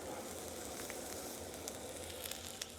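Food sizzles on a backyard griddle where steak and asparagus are cooking, a quiet, steady crackling hiss with a few sharper pops toward the end.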